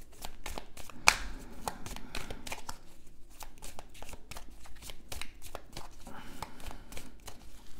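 Oracle cards being shuffled by hand for a thirteen-card reading, giving rapid soft riffling and flicking taps in a quick irregular rhythm, close and quiet, with no talk.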